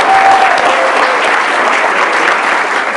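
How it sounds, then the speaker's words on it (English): A full round of audience applause at a business meeting, dense steady clapping from a large room that holds evenly for about three seconds with no talk over it. "Let's give Josiah's mom a round of applause,"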